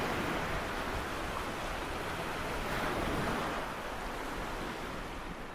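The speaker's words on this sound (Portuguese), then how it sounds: "Moshe bateu com seu cajado e o mar se abriu ao meio" The sea splitting apart in two, a soft, steady rushing roar of churning water and wind that swells slightly midway and then eases, with no voices.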